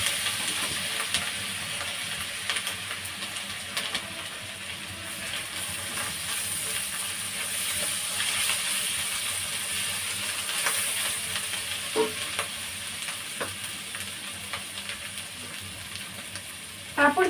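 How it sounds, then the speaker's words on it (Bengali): Sliced onion frying in oil in a pan, later joined by ginger paste, giving a continuous loud hissing sizzle with occasional scrapes of stirring, no talking. "পেঁয়াজটা কিছুক্ষণ ভেজে নিব"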